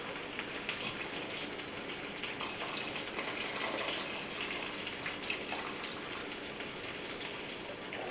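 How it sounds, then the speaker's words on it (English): Water pours steadily into a pot of cilantro orange chicken soup as it cooks, a quiet, continuous rushing splash that stays even for several seconds with no voices over it. "I'm gonna add some water to this"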